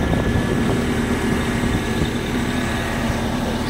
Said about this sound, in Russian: Работает ровно, никаких проблем с двигателем нет.